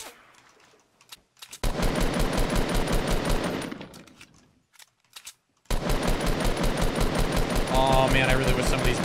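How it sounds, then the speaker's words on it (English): Rapid automatic gunfire in a Fortnite match, loud sustained bursts of rattling shots in two long stretches separated by a brief lull, with a voice talking over the action. "Oh man, I really wish some of these bullets would hit this person."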